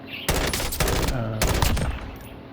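Rapid automatic gunfire from a weapon fired with iron sights in Call of Duty, two loud sustained bursts separated by a brief pause, close and dominant.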